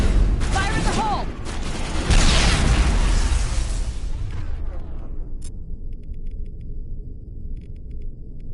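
A grenade blast in Mass Effect Legendary, a loud booming burst that rolls out over several seconds amid gunfire, with a shouted voice at the start before the roar fades into quiet.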